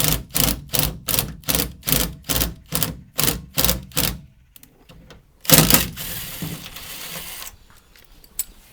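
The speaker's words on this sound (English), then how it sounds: "Next one I'm going to do with the impact gun." An impact gun drives a 1/4-20 bolt into a Sprinter van's rear door in a fast run of about a dozen sharp, evenly spaced rattling hammer bursts, then falls quiet except for a brief whir and a click.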